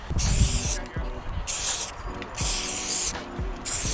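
Aerosol can spraying metallic gold paint in repeated hissing bursts, four strong sprays with short pauses between them, loud and close.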